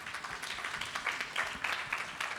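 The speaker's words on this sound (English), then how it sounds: "A round of applause, please." Applause from an audience at an international symposium in the Philippines, fairly soft and distant, with scattered individual claps standing out in an uneven patter across the moment.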